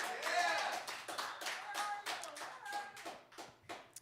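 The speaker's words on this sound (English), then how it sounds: "give us a big round of applause" Audience at a poetry night clapping, a series of distinct claps in an uneven rhythm, fairly close, with some voices mixed in among the hand claps.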